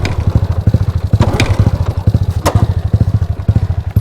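A motorcycle engine with its choke open cranks and sputters in a rapid, uneven chugging rhythm, close and fairly loud, as it struggles to catch in a roadside stop in Thailand's Chiang Rai Province.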